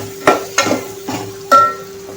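Red pumpkin sautéed with garam masala in a pan, four distinct scraping stirs of a spatula over a soft frying sizzle, close and fairly loud.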